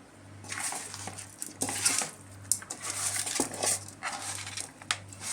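Pieces of pond fish tossed in a metal bowl to coat them with salt, chili powder and oil, giving repeated close clattering and scraping strokes in an uneven rhythm with a faint steady hum beneath.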